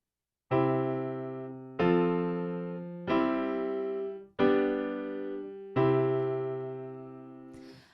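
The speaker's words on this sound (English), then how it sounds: "how to play a keyboard progression at the piano" Five sustained piano chords in a 1, 4, cadential 6-4, 5, 1 progression played one after another at a slow, even pace, each ringing out and fading before the next.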